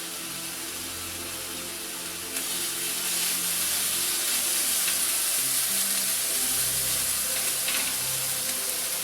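Sauerkraut sizzles steadily in a warm pan, a loud, continuous hiss close by that grows stronger partway through, with no voices.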